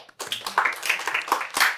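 Audience hands clap for a software demo at a tech talk, a short burst of close, uneven claps lasting under two seconds.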